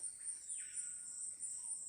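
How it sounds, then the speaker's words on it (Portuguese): Birds in the jungle give faint, high chirps and short calls over a steady insect drone, with no voices. "no meio da selva mesmo dá pra ouvir muito direito os passarinhos"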